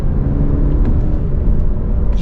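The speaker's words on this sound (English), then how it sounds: "we'll get a little highway acceleration, so I'll give it a couple downshifts here." A 2020 Alfa Romeo Giulia Sport pulling hard on the highway after a couple of downshifts, its engine a loud, steady low rumble and whir inside the cabin with road noise beneath.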